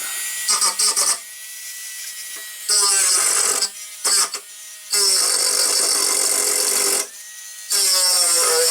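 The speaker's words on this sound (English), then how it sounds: "smooth it off with a multi-tool, one I made" Homemade rotary multi-tool smoothing an etching station, whining at high pitch in repeated bursts of a second or two up to a couple of seconds, with brief pauses between passes; close and loud.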